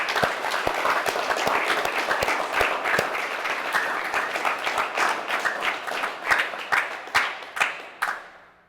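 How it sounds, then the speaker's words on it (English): Office all-team meeting audience breaking into sustained applause, dense clapping filling the room steadily and fading out at the end, with a few sharper individual claps standing out near the close. "Let's give him a round of applause."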